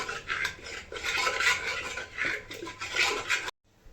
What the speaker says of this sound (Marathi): चमच्याच्या साहाय्याने ती भाजी चांगली बारीक करून घ्यायची